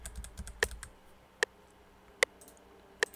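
Computer keyboard typing used as a background layer in an FL Studio 20 track: a handful of sharp, sparse key clicks spaced about a second apart, close and quiet over a soft bed.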